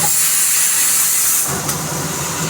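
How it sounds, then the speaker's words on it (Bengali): Green chillies frying in oil: a loud, close, continuous hiss and sizzle with no pause across the moment. "কাঁচা লঙ্কাটা আমি টেবিল তেলের মধ্যে ভালো করে মেখে ভেজে নেব।"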